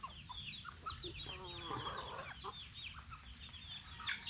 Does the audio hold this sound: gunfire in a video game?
no